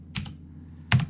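Two short bursts of keystrokes on a computer keyboard, a quick double tap followed by a pause and then a louder cluster of clicks, close to the microphone and with no talking.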